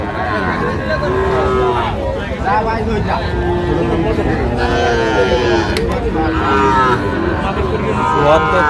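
Sahiwal cattle at a livestock market in Aftabganj give several drawn-out moos, loud and close, while people talk and the market crowd murmurs around them.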